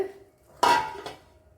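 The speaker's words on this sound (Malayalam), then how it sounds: "ഇപ്പോഴും വെണ്ടയ്ക്ക ഈ ചട്ടിയിലോട്ട് തട്ടിയിട്ടുണ്ട്" Cut okra is tipped into a cooking pot with one close clattering thump, a brief metallic ring, and a softer second knock.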